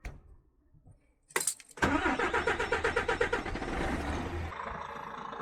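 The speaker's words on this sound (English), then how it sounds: "We'll go and start the truck, if it will start." A DAF CF truck engine cranks and fires up after a brief key rattle, settling into a loud, close, rhythmic diesel idle.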